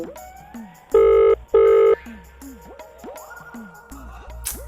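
An unanswered phone rings with two loud, even bursts of tone close by, set against a patterned electronic background with rising chirps, with no talk.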